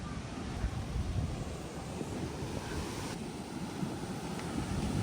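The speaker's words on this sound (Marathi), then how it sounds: "वाव खूप सुंदर समुद्र आहे दिसतोय इथून मला." Sea waves washing on a Konkan beach, a continuous broad roar mixed with wind buffeting the microphone, steady and fairly loud without distinct breaks, no speech.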